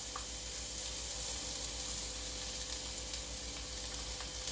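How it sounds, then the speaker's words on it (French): Onions sizzling steadily in a shallow layer of oil in a frying pan, a continuous soft hiss that stays even throughout, with no voices. "Je fais revenir mes oignons."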